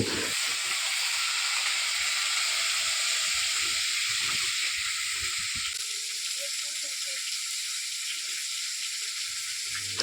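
Onions frying in mustard oil in a wok, a loud, even sizzling hiss that runs the whole time, close up and steady, with faint stirring scrapes and no talking.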